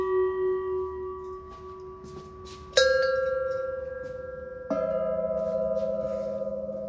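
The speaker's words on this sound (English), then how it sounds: "You got specific tune chimes." Tuned wind chimes at a chime auction in Eureka Springs ring in clear sustained tones, one pitch holding before louder new strikes shift to lower notes that hum and slowly fade.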